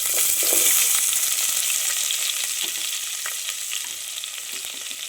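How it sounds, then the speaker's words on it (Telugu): Onions sizzling steadily in hot oil with cashews for paneer biryani, a dense continuous hiss with occasional crackles and light stirring taps, close and fairly loud throughout. "ఇప్పుడు ఆనియన్ వేద్దాం."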